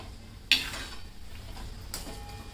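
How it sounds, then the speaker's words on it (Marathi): Cashews fry in oil over a low gas flame for chivda, a faint steady sizzle marked by two sharp metal clinks of a spoon against the pan. "आता आपण हे काजू आहे ना ते पण तळून घेऊया काजू पण आहे बारीक गॅसवरच तळा"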